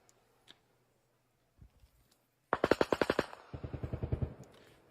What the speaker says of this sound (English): it sounds like a light firefight